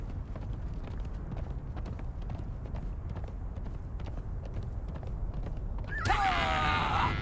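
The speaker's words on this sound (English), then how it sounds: "We'll get on our horse here." Horse hooves clip-clop in a steady rhythm with faint creaks in the video game Conan Exiles, close and moderately loud, before a brighter burst of noise near the end.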